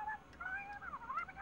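A cartoon cat meows in a few drawn-out, wavering calls that rise and fall, fairly faint and alone with no talking.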